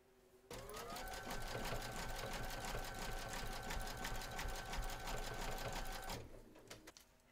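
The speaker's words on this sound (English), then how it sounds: "pop your hoop into your machine and stitch round number 7, and that's going to zigzag along here and join the two segments together" An embroidery machine stitches a zigzag seam joining two fabric segments in the hoop of a teddy and unicorn bag, a loud steady rapid chatter that starts abruptly and runs for several seconds before stopping.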